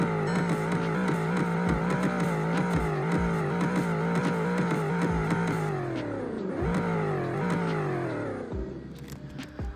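Bugatti Veyron engine being revved in Greenville, Wisconsin, a loud continuous drone that climbs and falls through several rev sweeps, with no voices over it.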